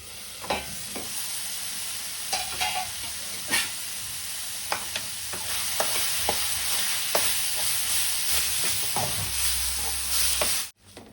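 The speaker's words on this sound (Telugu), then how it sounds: "ఇప్పుడు ఒకసారి కలుపుకుందాం" A spoon stirs masala-stuffed bitter gourd curry in a hot pan, its repeated scrapes and knocks punctuating a steady close sizzle, with no one speaking.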